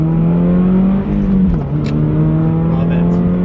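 2025 Subaru BRZ tS with a Corsa exhaust, a loud steady droning exhaust note holding a constant pitch with a slight dip, heard close up over the full few seconds.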